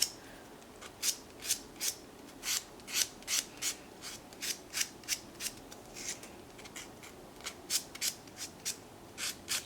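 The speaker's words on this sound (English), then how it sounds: "Thankfully with buffing blocks, it's not going to do too much damage if you go over the same spot a couple times." A buffing block files off builder gel nail coating in a steady series of short, close, raspy scrapes, roughly two strokes per second, with no talk.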